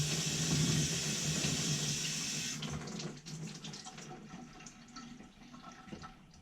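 Tap water runs steadily into a sink while a hand-painted soap bar is rinsed, a close rushing splash that cuts off midway, leaving faint drips and handling noises.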